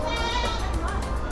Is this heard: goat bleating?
yes